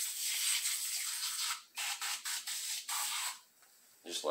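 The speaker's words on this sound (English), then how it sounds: "So, just a little spray." Cleaner is sprayed onto greasy bicycle bearings in a long hissing blast, then a rapid series of short hissing spurts, close and loud, before a quiet pause and another burst.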